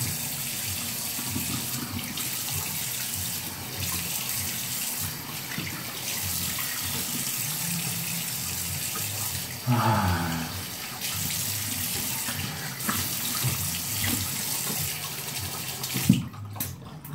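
Hot water runs steadily from a tap during a straight-razor shave, a continuous hissing gush that fills the whole stretch, with a brief clatter near the end.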